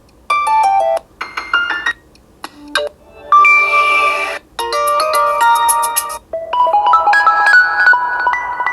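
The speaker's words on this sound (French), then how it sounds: "Il y a une sonnerie OnePlus." A bright, chiming OnePlus phone ringtone plays a series of quick melodic notes in bursts with brief gaps, loud and close.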